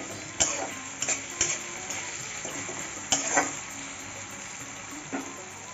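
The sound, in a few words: chopped tomato frying with onion in a pan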